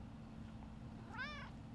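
A single short cat meow rises and falls near the end, fairly soft, over a constant low hum with no talking.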